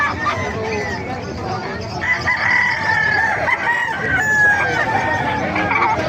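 Gamefowl roosters such as White Kelso and Sinibalang crow repeatedly amid clucking chickens, close and fairly loud, with faint voices in the background.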